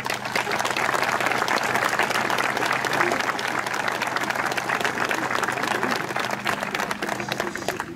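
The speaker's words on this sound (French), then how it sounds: "Je pense qu'on peut les applaudir." Crowd applause at an outdoor bridge ceremony in a French village, sustained dense clapping from many people, steady and close for the whole stretch, with faint voices mixed in.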